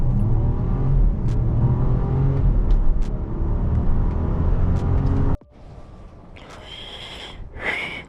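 A 2024 Jeep Wagoneer, a big heavy SUV with around 500 hp, accelerates hard with a loud, close, sustained engine roar. The roar drops off abruptly near the end, leaving quieter road and wind noise.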